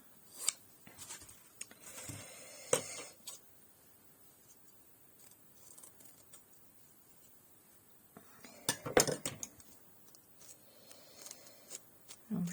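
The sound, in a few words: scissors cutting paper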